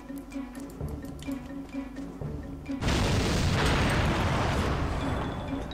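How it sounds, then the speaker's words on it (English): A bomb goes off in the shooter game No One Lives Forever 2, a sudden loud broadband blast that cuts in mid-clip and roars on steadily to the end over earlier game ambience. "And there's another bomb."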